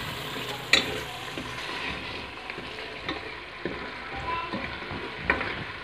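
Tomato masala for moong masoor dal sizzles softly in oil, a steady frying hiss broken by a few light stirring taps from a spoon.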